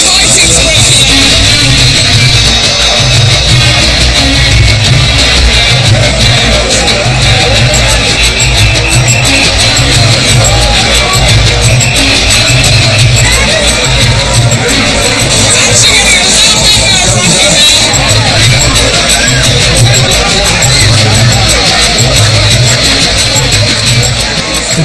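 Dense, chaotic crowd roar at a Christian religious procession as fighting breaks out, a loud continuous din of shouting and babble with voices talking throughout.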